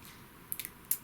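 Scissors cut through a piece of material in half, a quick cluster of crisp little snips close by, then one sharper final cut, in an otherwise quiet room.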